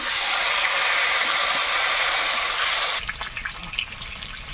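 An egg drops into hot oil in a pan, a loud steady hiss that cuts off abruptly and gives way to quieter crackling and small scattered sounds.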